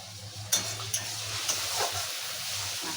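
Chokha fried in a pan with a ground masala of coriander, garlic, chilli and ginger, a steady close sizzle with a few sharp metal scrapes and stirring knocks near the start.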